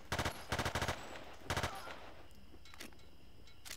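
Machine gun fire in the video game Battlefield 2: several quick, loud bursts of rapid automatic shots close together, then quieter, scattered game sounds.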